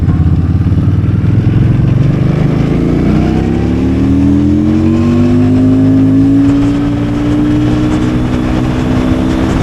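A Victoria Simplee V70 Border Cruise Edition motorcycle, an orange cruiser, accelerates hard with its engine note climbing steadily, loud and close for nearly ten seconds with no talking.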